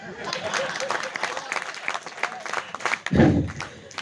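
An audience claps at a Hindi comic poetry recitation at a press club. The applause is a quiet, scattered patter throughout, with a short, louder burst of sound near the end.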